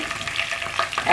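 Ginger-garlic paste and spices fry in oil with a little water, giving a short, close burst of sputtering sizzle and stirring scrapes.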